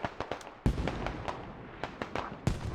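A Hell Cannon, an improvised propane mortar fired almost straight up by insurgents in a combat game, goes off amid a stream of sharp pops and booms. Heavier thumps stand out over a crackling battle din.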